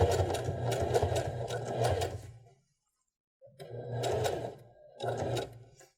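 A domestic sewing machine runs in bursts, stitching a seam on a garment fitting with light backstitching: a steady close mechanical whir for two seconds, a pause, then two shorter runs.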